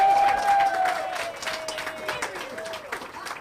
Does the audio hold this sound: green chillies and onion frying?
no